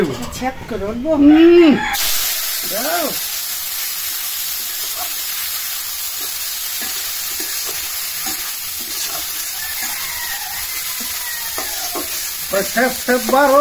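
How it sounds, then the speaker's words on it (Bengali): Shrimp frying in hot oil, a loud, continuous sizzle and hiss that holds steady the whole time, with a brief voice at the start and a few clatters near the end. "চিংড়িটা একবার তেলে ভাজা ভাজা হয়ে যাবো"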